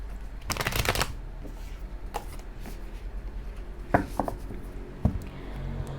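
Tarot cards shuffled close by during a horoscope reading, a dense papery riffle burst near the start followed by scattered soft card slaps and taps, with no talking.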